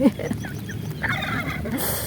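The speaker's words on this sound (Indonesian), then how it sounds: "Tuh, dengeran nggak suara ayam kalkun ya." A turkey gobbles in the distance during warm rain, a rapid warbling call repeated a few times, faint under steady background noise.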